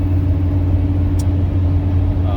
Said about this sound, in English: aftermarket cam tick that these older four-strokes have. Like every time you cam them, they just have like that noise. They're just kind of noisy engines.